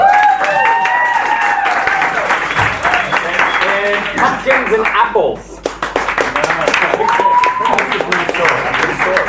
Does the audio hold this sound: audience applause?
yes